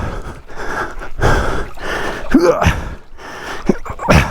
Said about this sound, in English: sorry for the heavy breathing, guys